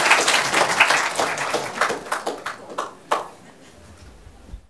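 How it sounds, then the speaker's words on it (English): Audience clapping to welcome Professor Michael Steger before a talk on neuroscience and meaning in life, a crowd applauding that thins into scattered claps and then fades out. "let's clap our big hands to welcome Professor Steger to deliver the speech to us"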